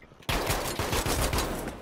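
Rapid automatic gunfire from the video game Battlefield 5 erupts abruptly and continues as dense, loud back-to-back bursts with no pause.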